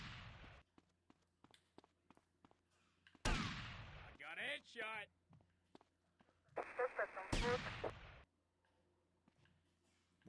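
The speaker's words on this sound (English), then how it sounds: "Where's the cop firing at?" Police gunfire in GTA Vice City: a few sharp, loud shots separated by gaps, with a wavering burst in the middle and faint background clicks.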